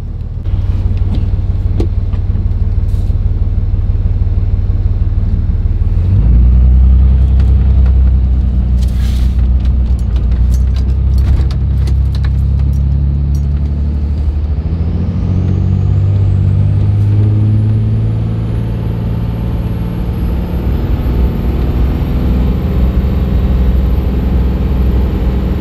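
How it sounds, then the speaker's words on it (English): A truck with a Cummins 5.9 24-valve diesel drives down the road, its engine giving a loud, steady low drone with a noticeable shift in tone a few seconds in, then a continuous rumble. No one speaks. "let's drive down the road here, let this thing warm up, and then come back and shoot some temps"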